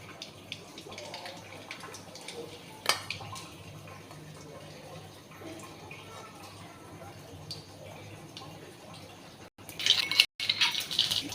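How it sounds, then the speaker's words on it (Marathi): Sparse sharp pops and crackles of mustard seeds spluttering in hot oil burst out near the end over a low, steady background hum and faint murmuring. "मोहरी फुटली चांगली"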